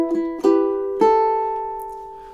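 Three plucked ukulele notes and chords in a fingerpicked melody, each attack ringing out and slowly decaying, close and clear with no voices.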